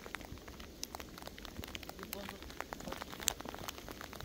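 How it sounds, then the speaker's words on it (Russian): Wet snow near freezing falls onto surfaces outdoors on an evening walk, a soft, steady patter of many small taps and crackles, faint and close, with occasional sharper drops and a voice briefly audible. "вот мне очень нравится звук такого снега"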